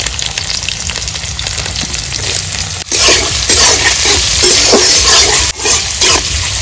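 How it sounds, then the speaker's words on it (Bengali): Chopped carrots frying in hot oil, a steady loud sizzle with stirring scrapes running throughout, briefly dipping twice as the pieces are moved around the pan. "তেলটা গরম হয়ে গেছে, প্রথমে আমি দিয়ে দেবো গাজর কুচি।"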